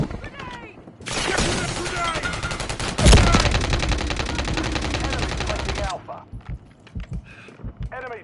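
Sustained automatic gunfire rattles through a Call of Duty: Modern Warfare 3 multiplayer firefight, a dense close burst lasting several seconds with one heavy thump in the middle, with radio-style voice chatter before and after.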